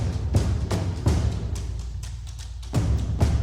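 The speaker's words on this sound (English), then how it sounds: "they weren't kidding with the drums part" Heavy rhythmic drum hits from the Horizon Zero Dawn game soundtrack, deep booming thuds landing roughly every second over a dense, sustained low musical bed.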